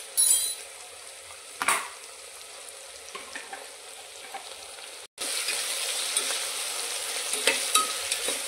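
Onions sautéing in a pan, a soft sizzle broken by a few scraping stirs and utensil knocks, then a louder, steadier frying hiss after a brief gap, with no voices.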